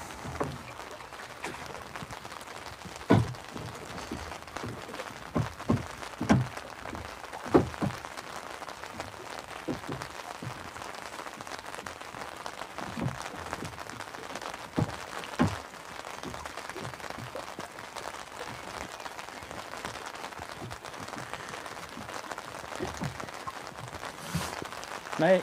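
Steady rain falls outdoors by the sea, with a dense patter of drops on surfaces and scattered louder taps throughout, no voices.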